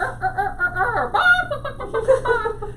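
A person's voice imitates a rooster crow with warbling, rising-and-falling calls, close and fairly loud, with no spoken words.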